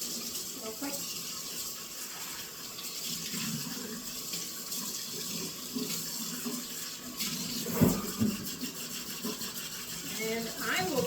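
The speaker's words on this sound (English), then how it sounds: "I got to wash my measuring cup real quick." Tap water runs steadily into a kitchen sink while a measuring cup is rinsed under it, with splashing and clunks of the cup against the basin and a louder knock near the end.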